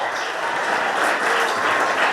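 A crowd of schoolchildren at a Karnataka Public School birthday celebration claps continuously, a loud, dense, even patter of many hands with no pauses.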